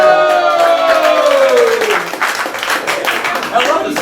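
A burst of applause sound effect swells in under a loud speaking voice on a comedy talk show, its crackling clatter growing more prominent as the talking fades, then continuing with scattered claps.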